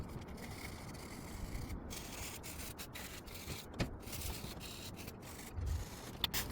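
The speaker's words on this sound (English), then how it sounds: "That's what we're going to start with to do some of the little tiny bit of rough sanding" Sandpaper rubs across car paint in short, repeated strokes, a quiet scratchy rasp with brief pauses between passes.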